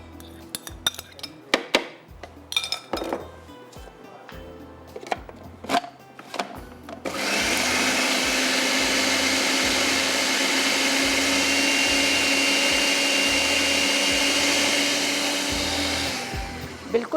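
A countertop grinder blends cooked chana dal with spices, starting with a few clinks and short bursts, then settling into a loud, steady whirring that runs unbroken for about ten seconds.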